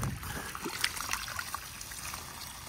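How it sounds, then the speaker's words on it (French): Water runs from a small garden tap while planting cinnamon and coconut, a soft, close trickle and splash with faint dribbling spurts, fairly quiet and steady. "Là ça envoie beaucoup d'eau donc je vais fermer un peu"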